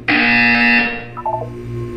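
A loud, harsh electronic buzzer in the game Portal 2 blares steadily for nearly a second, then cuts off, leaving fainter tonal blips and a quiet hum.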